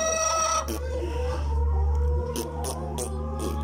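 Hens cluck in a farmyard over a constant low hum, with a few short clucks and calls near and clear, and a brief crow-like call at the start.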